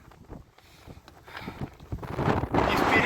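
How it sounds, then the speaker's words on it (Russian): Strong nord-ost gusts on the Markhotsky ridge in rain, a rough buffeting roar across the microphone that builds steadily and grows loudest toward the end, with no voices. "стоишь, дует ветер"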